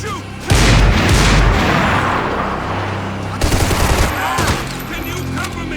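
Heavy gunfire in a shootout from the video game Max Payne 3, with dense bursts of automatic fire and booming shots, loud and continuous, with a second surge of shots midway.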